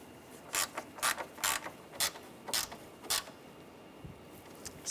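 A screw is driven and tightened during a radiator install on a 2009-2013 BMW 328i xDrive 3.0L L6, giving a series of about eight short, quiet ratcheting clicks spaced at a regular pace, close up.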